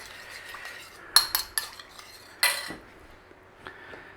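A metal utensil clinks against a bowl while stirring rice bran oil into a vinegar slaw, with a few sharp scrapes and taps separated by quiet pauses.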